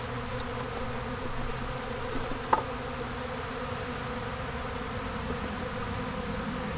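Honey bees swarm around an opened hive box, their buzzing a dense, continuous drone that stays steady throughout, with one brief tap or click partway through and no voices.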